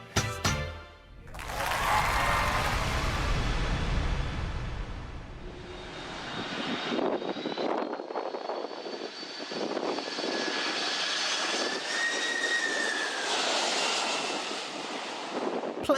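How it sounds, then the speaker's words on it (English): A jet airliner landing roars about 10 metres above a beach on St Martin in the Caribbean, a loud sustained engine rush with whining tones and wind buffeting, slowly fading as it passes. "Planes landing on the island of St Martin in the Caribbean are only 10 metres above the beach"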